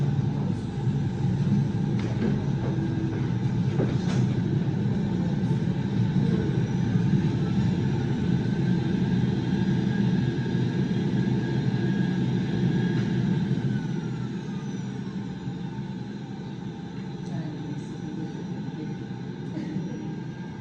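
Steady engine drone of a small Cessna aircraft in a flight simulator, a continuous loud hum that holds level throughout and eases slightly in the last few seconds.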